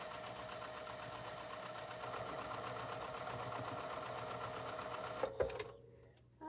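A quilting sewing machine runs steadily for about five seconds stitching a quarter-inch seam through sleeve fabric, a fast even whir that stops abruptly with a couple of clicks.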